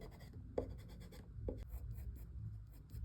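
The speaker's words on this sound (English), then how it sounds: "Now we can just use our eraser and erase some lines that we don't need anymore." An eraser rubbing out pencil lines on paper while drawing a face in profile, with faint, close scratchy strokes and a couple of sharp taps, quiet and without talk.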